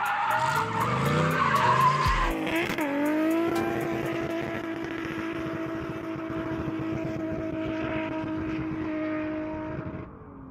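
A turbocharged straight-six engine in a Chevrolet Trailblazer roars and tires skid and squeal at first, then the engine settles into a steady, loud drone that fades out near the end.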